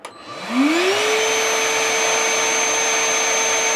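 After a click, a genuine DeWalt DCV501LN cordless vacuum's motor spins up with a rising whine, then settles into a steady, loud airy hum.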